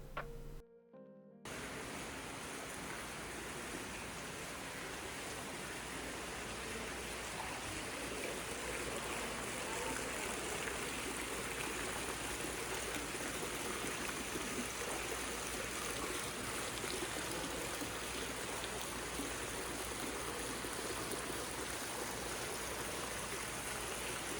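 The Boscov's fountain inside the Berkshire Mall, Pennsylvania, splashes continuously, a dense, even rush of falling water with no voices, steady from start to finish.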